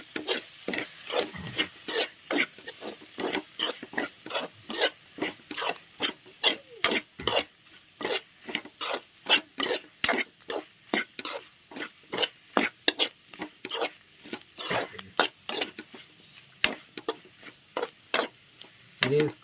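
A spoon stirs mutton boti fry in a pan, making steady rapid scraping strokes close up, with sizzling between them.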